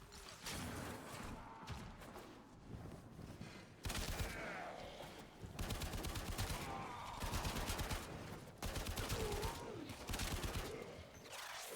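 Automatic machine-gun fire from the Braton rifle in the game Warframe, loud sustained bursts of rapid shots repeating in several long volleys with brief pauses between them.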